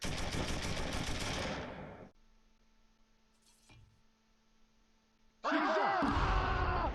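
Gunfire and mortar fire from the Close Combat III war game come in two loud broadband bursts at the start and end. A quieter stretch with a faint hum and a brief impact sits between them.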